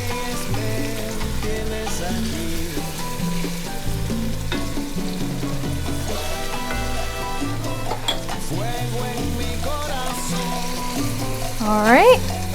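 Arroz con pollo fries in a pan with chopped cilantro being stirred in, making a continuous sizzle with soft stirring scrapes. Background music plays throughout, and there is a brief clatter at the end.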